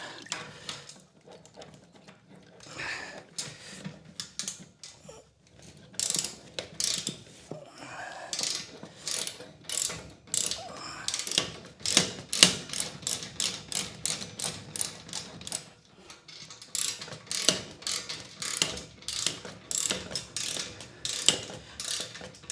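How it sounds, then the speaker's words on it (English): A hand tool works a radiator valve loose during a plumbing job, with repeated ratcheting clicks and short bursts of metallic turning. The sound is close and fairly quiet, with brief pauses between runs. "God send these tools for getting radiator valves out"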